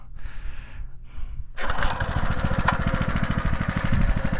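Two short pull-cord yanks on a homemade tractor engine, then it fires and settles into a loud, fast, chugging small-engine run up close.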